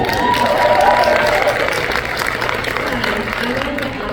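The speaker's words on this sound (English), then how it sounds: "Melanie, round of applause for her." A crowd at a Supernatural fan convention in Jacksonville claps and cheers in a large hall, a loud sustained roar of applause that slowly tapers, with voices mixed into the crowd noise.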